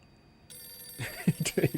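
The TARDIS telephone from Doctor Who starts ringing after a brief moment and keeps on ringing while voices talk over it.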